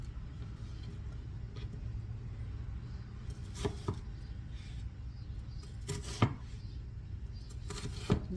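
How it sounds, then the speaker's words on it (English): Onion being chopped for a broccoli salad, a few sharp knife strikes on a board spaced apart over a steady low rumbling background, with no talking. "We just want you to chop the onion."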